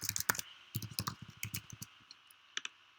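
Quick bursts of light clicking keystrokes on a computer keyboard as an email address is typed, close and fairly quiet, with short pauses between clusters of taps.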